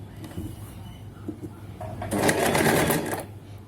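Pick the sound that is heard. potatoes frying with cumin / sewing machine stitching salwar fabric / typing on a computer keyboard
sewing machine stitching salwar fabric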